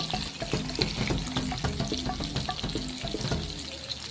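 Brinjal curry sizzles and fries in a pan, a continuous crackling hiss with scattered pops and spatters at close range, steady throughout with no voices.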